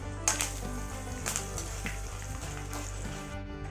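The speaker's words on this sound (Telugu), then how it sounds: "కొద్దిగా కరివేపాకు వేస్తున్నాను." Curry leaves dropped into hot oil with mustard seeds, giving a steady close sizzle and crackle with a few sharper pops near the start.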